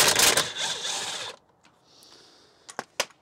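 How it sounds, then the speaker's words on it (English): A power tool whirs to loosen the T50 seat belt bolt inside a BMW in a loud, close burst lasting over a second. A few sharp clicks and knocks from handling the part follow. "Let's get this T50 bolt for the seat belt removed."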